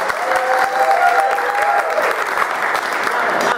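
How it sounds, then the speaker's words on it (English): Loud, warm audience applause welcoming a speaker onto a stage, steady crowd clapping with a faint voice or whistle-like tone briefly audible underneath. "please give her a warm round of applause"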